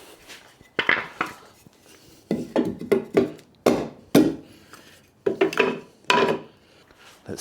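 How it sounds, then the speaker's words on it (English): Pieces of timber are laid one after another into a homemade lift stand, producing close clusters of hollow wooden knocks and clatters separated by short pauses, with no talking. "So I'm just going to lay the pieces of timber in there."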